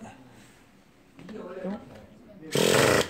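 A nitro-powered RC car, a Revo 3.3, fires up with a sudden loud, raspy burst of engine noise near the end, after someone talks over quieter background sounds.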